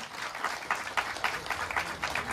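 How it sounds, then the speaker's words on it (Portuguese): Applause from a crowd at the opening of the pinhão harvest in Bocaina do Sul, steady clapping with a few louder swells, fairly close, no talking over it. "E é assim mesmo, vamos aplaudir."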